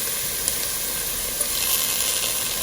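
Onions cook in a pan with a steady, close sizzle and faint frying hiss, broken by a couple of small taps.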